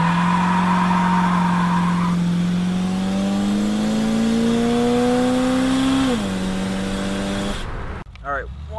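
A 1978 Oldsmobile Cutlass with a 403 V8 and failing brakes drives along a road, its engine droning steadily and slowly rising in pitch as it accelerates, then dropping on a gear change before cutting off near the end.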